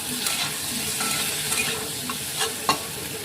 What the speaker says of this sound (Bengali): হালকা করে ভেজে তুলে নেব